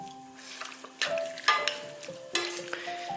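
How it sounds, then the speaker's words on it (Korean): Bracken fern stir-fried on high heat, sizzling in the pan with several distinct scraping, clattering stirs at an uneven rhythm, fairly quiet and with no talk. "제일 먼저 고사리 먼저 볶아주세요. 꼭 센 불에서 볶아주셔야 돼요."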